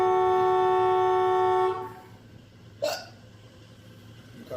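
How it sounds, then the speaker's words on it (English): A single sharp hiccup from a person sitting in a car, heard just after a sustained tonal car horn that fades out. "Your car made me hiccup."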